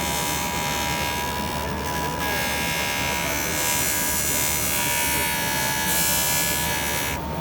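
A JOOLTOOL polishing machine working on a Rolex watch, giving a steady, loud motorized whine and buzz with a constant high tone. The grinding hiss surges slightly as the piece is pressed, throughout the clip.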